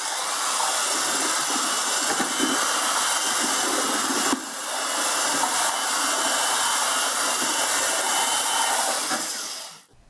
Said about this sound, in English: I've got my handy dandy paint mixer that I like so much, and then I just rev this baby up.